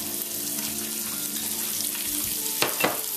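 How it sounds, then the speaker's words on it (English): Vegetables sautéing in a big pot over medium heat, a steady close hiss and crackle running without pause, with two brief sharper clinks near the end. "I'm just sauteing all of that together in the big pot"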